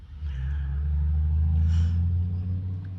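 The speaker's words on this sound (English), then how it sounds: "Wow, that truck is really loud." A heavy vehicle rumbles past nearby, a loud, steady low engine drone that swells slightly and lingers, with no talking.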